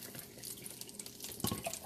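Water pours from a tap into a pot for cooking rice, a continuous close splashing stream for under two seconds with a brief louder gush near the end.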